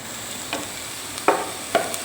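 Garlic and onion sautéing in a pan for soup: a soft, steady sizzle broken by a few short spatula scrapes and taps, close by, with no talking.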